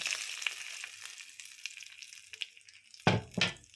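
Dry red chillies, cumin, curry leaves and garlic tempered in hot oil, a soft crackling sizzle with scattered pops, then two louder bursts of sputtering near the end.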